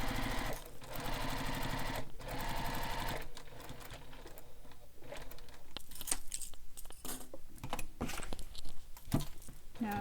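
A sewing machine stitches a bag in fast, steady runs, pausing and reversing briefly to backstitch, close and fairly quiet, with soft handling and fabric rustles between stitching bursts.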